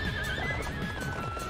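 Horse from Warriors Orochi 4 neighing loudly over rapid galloping hoofbeats in a video game, a bright whinny riding on a steady clip-clop rhythm throughout.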